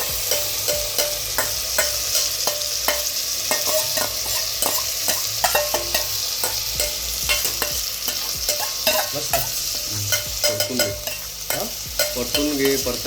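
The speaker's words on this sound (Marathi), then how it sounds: "परतून घे, परतायला घे तांदूळ असं" Rice for paneer biryani being sautéed and stirred in a hot oiled pan, with a steady sizzle and repeated scraping strokes of a spoon, close and continuous with no talking.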